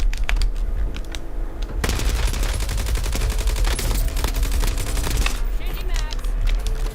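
Heavy gunfire rattles through a Call of Duty Black Ops 7 Zombies match. Rapid automatic bursts and booms run continuously and loudly, with faint voices mixed in underneath.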